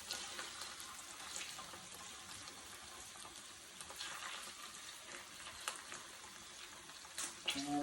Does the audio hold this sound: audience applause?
no